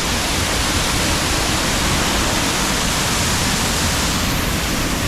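A powerful waterfall roars close by with a dense, steady rush of white water, continuous and loud throughout with no talking.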